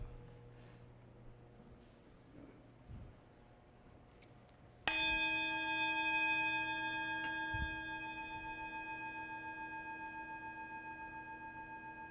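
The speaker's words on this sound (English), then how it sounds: "As we follow the sound of the bell into silence, we allow ourselves to arrive here fully." A single bell is struck once to open a Sunday service, a clear bright ring that hangs and slowly fades into silence after a few faint room noises.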